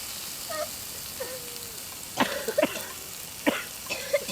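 Several short, sharp coughs spaced a second or so apart, close to the microphone, with faint clattering in the background and no talking.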